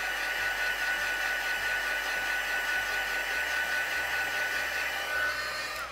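A heat tool or hair dryer blows across a stamped card to dry pigment ink, a loud, steady whirring hum that runs unbroken for several seconds with no talking.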